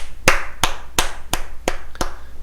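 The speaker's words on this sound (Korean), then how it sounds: "박수 쳐드릴 수밖에 없어요" Six sharp, evenly spaced hand claps, close and loud, ringing out one after another with short gaps between them.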